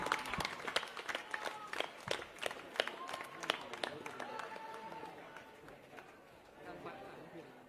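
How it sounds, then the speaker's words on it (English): Schoolchildren applaud at a school event, a dense, lively patter of many hands that starts loud and close and gradually thins and fades, with voices chattering over it. "Give him a big round of applause, students."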